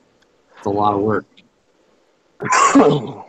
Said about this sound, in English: Someone sneeze?